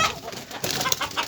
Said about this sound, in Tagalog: Nagkagulo na ang aking mga alagang manok